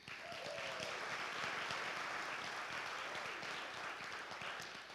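An audience claps steadily in a theater hall at Whidbey Island Center for the Arts, a dense, even wash of applause that holds throughout.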